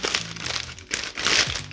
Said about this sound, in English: We're going to get it inside of this Ziploc bag.